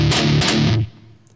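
A distorted electric guitar plays a short galloping riff with the pick held straight, a heavy chugging burst lasting under a second before cutting off to near silence.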